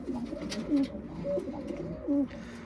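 A wild pigeon coos in low, soft repeated phrases, three hooting calls over about three seconds, heard close against steady wind noise in very windy weather.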